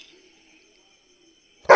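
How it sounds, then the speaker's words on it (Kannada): A single sharp dog bark bursts out near the end after near silence, loud and close, with no talk around it. "ನೀನು ಎಲ್ಲರಿಗೂ ಬೊಗಳ್ತಾ ಇದ್ರೆ ಎದ್ರುಕೊಂಡು ಹೋಗ್ತಾರೆ"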